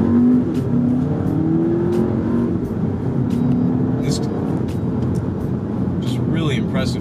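A 2017 Audi A3 with a dual-clutch transmission accelerates hard, its engine note rising through quick gear changes, loud and close inside the cabin, with voices talking over it.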